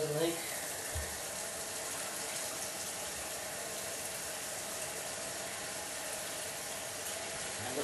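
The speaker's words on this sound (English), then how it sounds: "And we'll run a little water" Tap water runs steadily through a newly installed sink P-trap under a bathroom or kitchen sink, a continuous close hiss and gush lasting throughout with little change.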